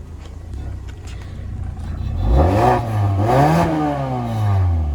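A 200-horsepower Mazda 6 with push-button start fires up and revs, its engine note rising and falling in a few swells over a steady idle, close and loud, with no talking.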